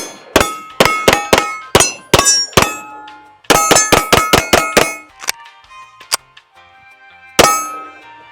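Experior pistol fired from the side: sharp, loud, ringing metallic reports in quick strings, a rapid cluster of about six after the first volley, then a couple of isolated shots, with no talk.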